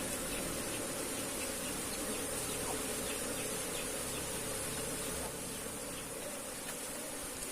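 Apis cerana honey bees buzzing during a first honey harvest, a steady dense hum of many insects close by, continuous and even throughout with no voices.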